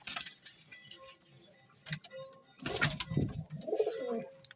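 A red mottled pigeon coos softly up close in a few low, throaty bursts, mixed with rustling and handling noises.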